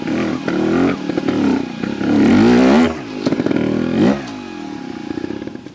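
A Vertigo Nitro 300 trials motorcycle pulling in third gear up a stream, its engine grunting loud and close at low revs with rising and falling throttle bursts and clattering over rough ground.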